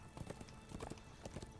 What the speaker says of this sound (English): Let's jump up on our horse.